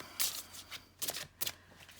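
Matte-finish tarot cards are shuffled by hand in a few quick riffling bursts, crisp papery flutters separated by short pauses, close and clear with no talking.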